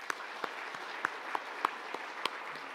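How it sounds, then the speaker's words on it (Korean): A church congregation gives warm applause to welcome two newly arrived ministers at a New Year thanksgiving service, a soft, fairly distant patter of many hands with a few sharper individual claps standing out. "우리 인사하실 때 따뜻한 박수로 환영하겠습니다"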